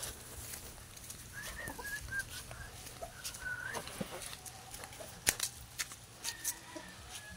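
Chickens cluck in scattered bursts at a moderate distance, with a few sharper sounds along the way.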